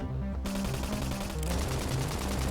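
Rapid bursts of automatic gunfire in the video game Xenoblade Chronicles X, loud and close, firing continuously with a brief pause before resuming.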